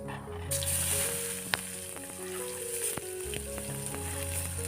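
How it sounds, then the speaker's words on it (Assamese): Chopped onions frying in hot oil with panch phoron for a dhaba-style egg curry, giving a steady close sizzle with a few sharp clinks and pops and no talking. "দুটা মিডিয়াম চাইজৰ পিঁয়াজ মিহি মিহিকৈ কাটি লৈছোঁ আৰু মই পিঁয়াজখিনি দি দিছোঁ"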